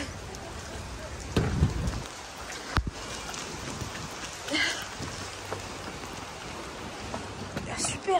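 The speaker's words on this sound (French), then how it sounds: "On est au Maroc, il pleut?" Steady rain falls on a surface in Morocco, a continuous wash of drops with a couple of louder bursts and occasional bumps, while people talk faintly over it.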